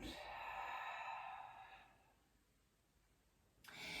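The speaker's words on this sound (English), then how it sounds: "Take a breath in and a full breath out." Deep yoga breathing during a lunge flow: a long, audible exhale fading out over about two seconds, then quiet, then a fresh intake of breath near the end, close and soft.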